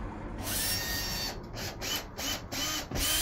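A power drill with a wood drill bit bores through wood toward metal in a lock mortice, giving a close, high whirring whine that cuts in and out in several short bursts, with no voices.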